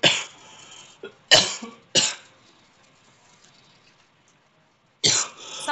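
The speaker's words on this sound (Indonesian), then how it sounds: "Sorry, aku batuk." Several harsh coughs come in short bursts, loud and close, with pauses of near silence between them.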